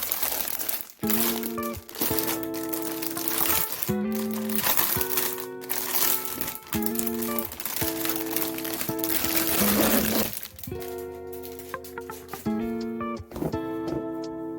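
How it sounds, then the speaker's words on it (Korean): Plastic wrapping crinkles and rustles loudly up close, with repeated crackling handling and tearing over several seconds, interrupted by brief pauses. "비닐 소리가 시끄러우니까 비닐도 한번 다 뜯어서 리뷰를 해보도록 하겠습니다"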